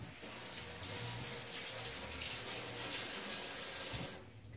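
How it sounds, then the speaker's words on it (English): Kitchen tap running in a steady, faint stream as hands are rinsed under it, a continuous splashing hiss that cuts off near the end. "let me give my hands a quick rinse"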